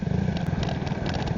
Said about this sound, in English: engines hum in careful control